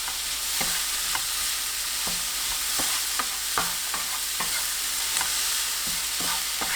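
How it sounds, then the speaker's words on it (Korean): Onion and carrot stir-fry over high heat with garlic and scallion, a dense, continuous sizzle broken by irregular clicks and scrapes of a utensil against the pan, with no voices. "양파와 당근 넣고 1분 30초 볶아주세요."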